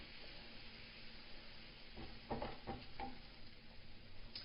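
Vegetables with ginger cook and soften in a pan with a quiet, steady sizzle and a few soft stirring clicks near the middle, all faint.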